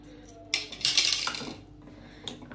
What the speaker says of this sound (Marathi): आता आलं खिसून घेते